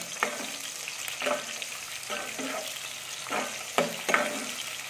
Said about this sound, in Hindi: अब हम इसमें प्याज ऐड कर देंगे